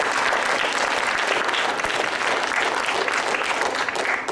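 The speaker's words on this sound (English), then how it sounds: "I'd like you to give a really, really big round of applause for Congressman Sanford" Audience at a university event giving a congressman a big round of applause, loud, dense clapping that continues steadily throughout.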